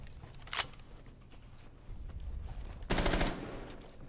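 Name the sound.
gunfire in a video game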